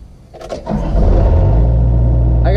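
Hitachi excavator diesel engine cranking and catching, then roaring steadily at full throttle with no throttle control, loud and close, a brief whine near the end.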